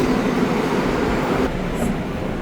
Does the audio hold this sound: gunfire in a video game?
no